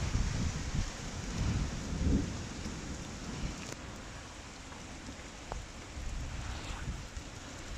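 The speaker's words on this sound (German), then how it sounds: "Wir haben hier schönes Gewitter." A thunderstorm over a farmyard: heavy, continuous rain hisses close by while deep rumbles of thunder roll underneath, swelling in the first seconds and again briefly near the middle, with no one speaking.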